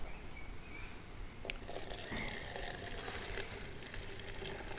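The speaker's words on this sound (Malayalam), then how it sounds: "ആദ്യമായിട്ട് നമുക്ക് ഇതിലേക്ക് കുറച്ച് സോപ്പ് വെള്ളം നിറച്ചു കൊടുക്കണം." Soapy water runs into a homemade fruit fly trap in a faint stream, with a brief plastic click partway through and a louder splashing fill toward the end.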